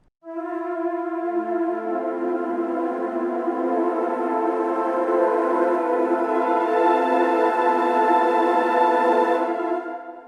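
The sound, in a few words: 8Dio Majestica woodwind ensemble sample library, flutter tongue and trills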